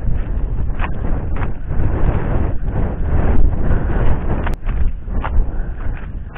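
Wind gusts at a reservoir during a hampala fishing trip, loud buffeting roar against the microphone that surges and eases in uneven pulses, with a brief sharp click midway.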